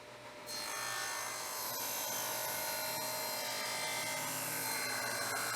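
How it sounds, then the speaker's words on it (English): A saw rips wooden boards to width for a DIY noodle board, a loud continuous rasping cut that runs steadily after a brief quieter start, with no voices. "At the same time we're ripping these boards down to width, we're actually squaring off this last edge too."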